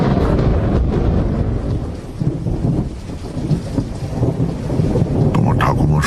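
Heavy rain pours steadily in a radio drama's stormy scene, with deep rolling thunder rumbling loud and close through the downpour and a few brief sharper crackles near the end.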